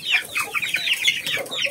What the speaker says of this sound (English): So we have that Selkie chicken.